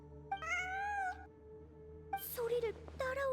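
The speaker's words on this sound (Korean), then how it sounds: "환청이 아니야. 진짜 고양이야." A cat meows inside a video game, two drawn-out mewing cries a second or so apart, loud and close over a steady background music bed.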